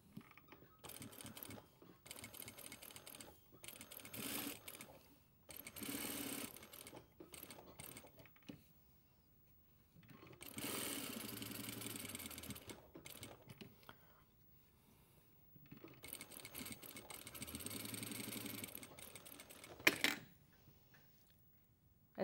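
A sewing machine edge-stitches along a pointed pocket flap in several quiet bursts of running, each separated by pauses, followed by a short clatter near the end.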